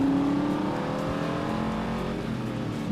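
A car driving slowly in The Saboteur video game, its engine giving a steady, moderately quiet hum and drone with no talk over it.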